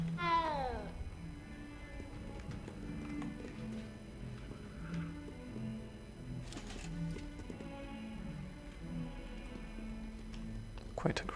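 A cat meows briefly in the Hogwarts Legacy video game, a short high cry near the start set against steady game music and ambient sound, with a voice talking at times.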